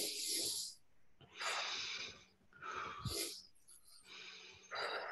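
A person takes quick, deep breaths in a series of loud, rushing, hissing bursts separated by short pauses, close to the microphone, with no talking.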